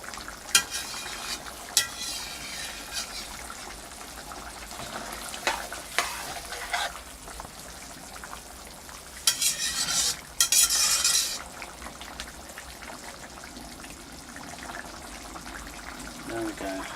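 A utensil scrapes and stirs around the edges of a pan of sizzling fish curry, giving repeated clinks and scrapes over a steady frying hiss. There are a few louder scraping bursts partway through.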